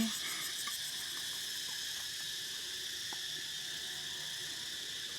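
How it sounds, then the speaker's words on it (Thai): A continuous high, shrill insect drone of cicadas fills the air, steady and unbroken throughout, with a few faint clicks underneath. "ฟังเสียงจักจั่นนี่แทนเสียงเพลงเลยเพิ่นว่า"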